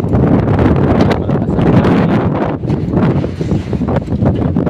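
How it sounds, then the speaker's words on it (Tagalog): Strong wind buffets the microphone in a constant low roar, loud and unbroken throughout, with gusts swelling and easing, near a railway project site in Santa Rosa, Laguna. "Malakas ang hangin dito sa area"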